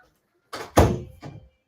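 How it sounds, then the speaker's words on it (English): A door is pushed shut in a house: a soft rustle, then one solid thud as it closes, followed by a lighter knock as it settles, with quiet before and after. "Let me close this door because I don't want to disturb my people."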